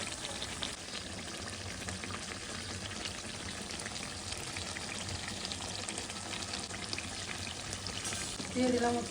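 A steady broadband hiss of sizzling as water is poured into chicken cooking in a hot pan, continuous and close, with a brief louder burst near the end.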